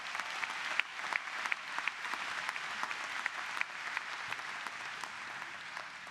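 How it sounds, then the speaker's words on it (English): Sustained applause from a commencement audience at a law school graduation ceremony, steady dense clapping with a few sharper claps standing out, continuing evenly throughout. "please give them a round of applause"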